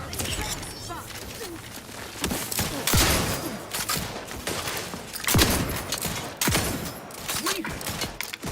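Scattered gunshots crack out in The Outer Worlds 2, a few sharp loud reports spaced irregularly among clanks and movement, with a voice talking in between.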